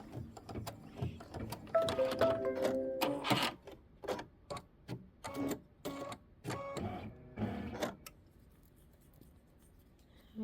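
A domestic sewing machine stitches a Kimberbell quilt block with mylar, running in quick mechanical bursts of clattering needle strokes for about eight seconds before stopping into quiet.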